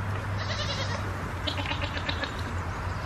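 A farm goat on a foggy morning bleats twice, fairly close, with a steady low hum beneath the calls.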